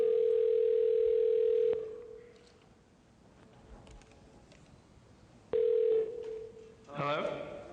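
Telephone keypad tones during a conference phone call: one long steady tone, a pause with faint room noise, then another tone followed by a brief burst of chirpy call audio.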